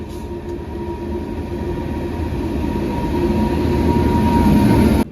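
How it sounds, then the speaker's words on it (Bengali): The Kanchan Express passenger train pulls into a station in a loud, steady rumble of wheels and carriages that swells gradually before cutting off abruptly, with no voices. "ট্রেন আমাদের ঢুকেও গেছে"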